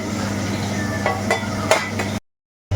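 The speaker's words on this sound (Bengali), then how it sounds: "আজকে বাটা মাছ নিয়েছি বাটা মাছ ভাজা হচ্ছে" Bata fish frying in a pan gives a steady, loud sizzle of oil punctuated by three or four clinks of a spatula against the pan. The sound then cuts to silence.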